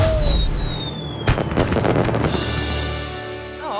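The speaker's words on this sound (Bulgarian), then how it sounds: "Фойерверките бяха супер" Fireworks in a Barbie cartoon: whistling rockets rise with falling pitch, then a sharp burst sets off a dense crackle of pops before more whistles trail off, loud and with no speech.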